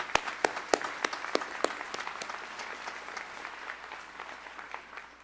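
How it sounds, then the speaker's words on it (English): An audience applauds after a student performance at an installation ceremony, with sharp individual claps at first, then a dense, steady round of clapping that slowly thins toward the end. "could we have another round of applause for that great performance?"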